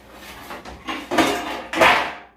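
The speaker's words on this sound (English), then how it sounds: "then we're going to flip it onto the pan that we're cooking it on" Seasoned baby back ribs flipped onto a cooking pan in a home kitchen, three clattering thuds of meat and metal spaced about half a second apart, close and loud.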